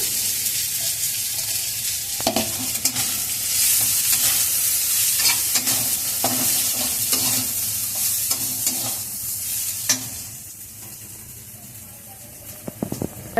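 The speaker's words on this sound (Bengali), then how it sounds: "এবার আমি পাট পাতাগুলো দিয়ে দিচ্ছি।" Jute leaves are stirred into a pan of deep-fried onions for masoor dal, giving a loud continuous sizzle with repeated scraping and clanking of the spatula against the pan.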